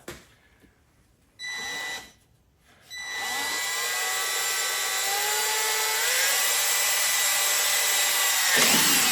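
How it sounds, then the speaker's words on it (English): A power drill bores a pilot hole in the fuel door of a 2018-or-later Goldwing motorcycle: two short bursts of motor whine, then a sustained high whirring run that shifts pitch as the bit cuts, loud and close. "So you're doing a pilot hole first, and then again you're doing a 1/2 inch."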